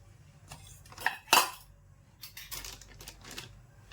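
A metal wok is placed on a gas stove, giving a couple of sharp metallic clanks and scrapes up close, followed by lighter rattles and knocks in an otherwise quiet kitchen.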